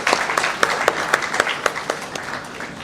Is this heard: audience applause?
yes